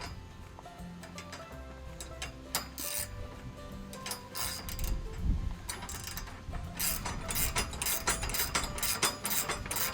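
Wrench tightening 5/8 inch bolts on an RV, heard as rapid metallic ratcheting clicks and clinks in irregular bursts, close and fairly loud, with occasional knocks.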